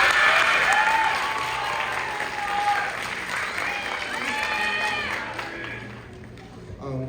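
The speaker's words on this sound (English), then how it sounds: "Let's give her a round of applause." An audience at a symphonic band event breaks into sustained applause, dense clapping filling the room with a few cheers, then tapering off toward the end.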